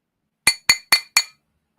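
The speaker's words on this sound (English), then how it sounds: "That is the sound of the weed grinder being empty." An empty weed grinder is turned, giving four quick bright metallic clinks in an even rhythm. Each is close and crisp, and silence follows.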